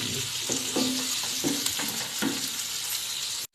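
Chopped tomatoes are stirred into frying onions for poha upma, a continuous sizzle marked by several scraping stirs and a faint clink before the sound cuts off abruptly.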